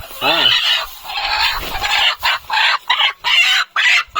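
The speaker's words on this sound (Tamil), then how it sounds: "ஒரு கோழி இருக்கு" Country hens clucking in short, repeated bursts close by on a poultry farm, with a louder squawk near the start and steady cackling that follows.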